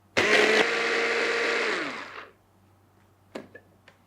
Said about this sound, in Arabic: يبقى في محضرة طعام، أشغل لأطحن هالمكونات مع بعضها